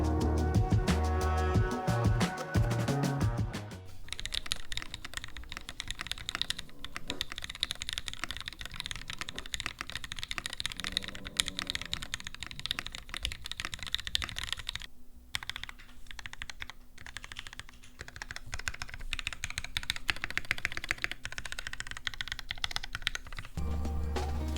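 Fast, continuous typing on a blue Space 65 Cybervoyager mechanical keyboard fitted with GMK Rudy keycaps, with dense, close clacking keystrokes and occasional louder spacebar hits, after a brief burst of music at the start.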